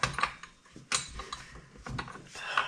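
A spanner tightens a bolt on the power steering pump of a Ford Falcon XR6, giving several sharp metallic clicks and clanks with scraping between them at close range.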